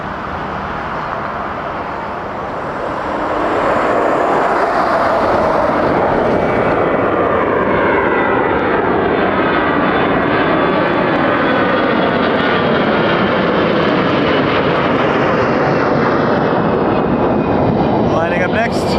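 An Airbus A321 jet at Toronto Pearson Airport roars loudly and steadily for nearly twenty seconds, its engine noise swelling after a quieter start and sweeping in pitch as it passes close by.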